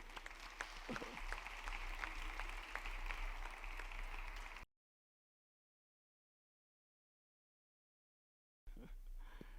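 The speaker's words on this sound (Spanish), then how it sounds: "Aplauda al Señor." Steady applause from a church congregation fills the first few seconds, cuts to silence, then resumes briefly at the end, heard faint and distant.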